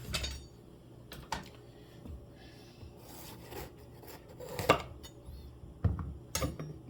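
Knife and dishes handled on a kitchen counter while preparing soup: scattered clinks, taps and scraping knocks of utensils against crockery, close and irregular, with no talking.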